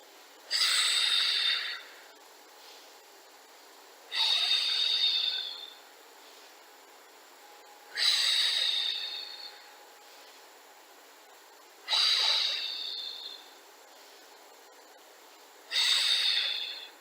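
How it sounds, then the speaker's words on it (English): Deep breaths during a Pilates session, five evenly spaced breathy rushes of air roughly every four seconds, close and clear against quiet background. "Inhale. Exhale. Inhale. Exhale."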